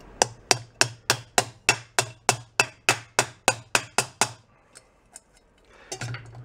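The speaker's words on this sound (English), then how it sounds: "I need a different hammer, believe it or not." Hammer blows ring out on metal while working on a barn-find Jawa motorcycle, about fifteen sharp, evenly spaced strikes in a fast steady rhythm, close and loud, then a few scattered lighter taps and a scraping handling sound.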